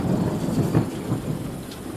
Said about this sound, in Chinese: 那几个冰雹打得我脑袋疼